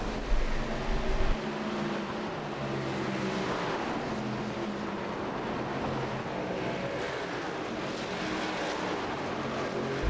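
Race car engines from an ARL racing video game at Dover, a steady dense drone of several cars running together at a constant pitch, with a brief low thump at the start and no talk.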